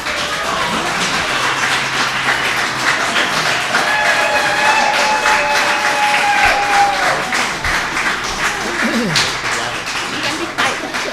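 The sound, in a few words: applause at board meeting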